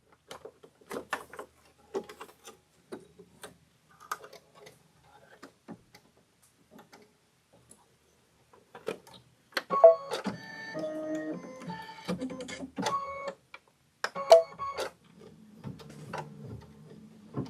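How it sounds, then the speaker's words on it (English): A sewing machine runs a quilting stitch on linen in short bursts of whirring motor and rhythmic ticking, busiest in the second half, with faint voice sounds here and there. "this is going to take a little bit of stitching because it's going to do the quilting stitch too"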